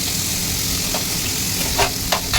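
Salt-and-turmeric-coated prawns frying in hot oil in a pan, a steady loud sizzle with a few brief stirring scrapes near the end.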